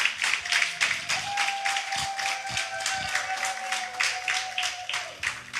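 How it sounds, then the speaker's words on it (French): Congregation at a baptism service clapping in a steady rhythmic beat, moderately close, with a sustained sung or hummed tone running over the claps. "J'aimerais sentir ça par vos acclamations,"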